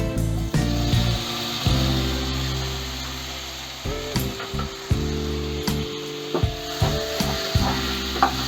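Chopped tomatoes go into a hot, sizzling pan for restaurant-style butter chicken and are stirred, with a steady hiss and scattered scraping knocks over a constant low mechanical hum.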